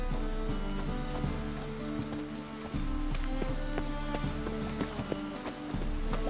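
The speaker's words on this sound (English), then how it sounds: "Lots of fuss over lots of rain." Video game rain in The Witcher 3: steady rain patters on surfaces over a low ambient hum, with scattered louder drops and occasional knocks, continuous and fairly close.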